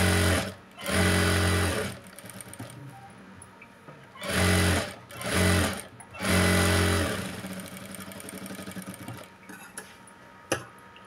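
A sewing machine stitches a blouse lining in several short bursts of fast rattling hum, close and loud, separated by quiet pauses with faint handling clicks and a sharp knock near the end.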